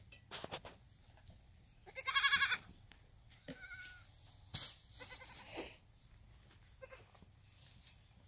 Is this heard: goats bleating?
yes